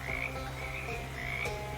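Frogs croak in a swamp in the video game Shadows Over Loathing, a steady chorus of rhythmic, repeated croaks over a soft continuous ambient bed.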